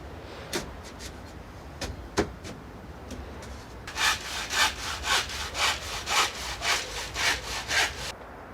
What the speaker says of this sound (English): I'm only on the handsaw today, but it's getting the job done just fine.